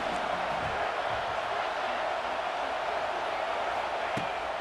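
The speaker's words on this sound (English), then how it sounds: "the Buckeye crowd alive on third down" A stadium crowd roars steadily in the EA Sports College Football 26 video game, a loud, unbroken wash of massed voices in Ohio State Buckeyes territory on third down.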